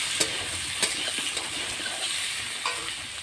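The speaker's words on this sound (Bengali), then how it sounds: "একটু নাড়াচাড়া দিতে হবে" Taro pieces fry with garlic in a pan and are stirred. A steady, close sizzle runs throughout, punctuated by a few sharp scrapes and clinks of the spatula at uneven intervals.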